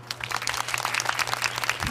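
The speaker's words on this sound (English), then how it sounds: "That is clapping." A group of people clapping hands together, a steady, dense patter of applause with no voices over it.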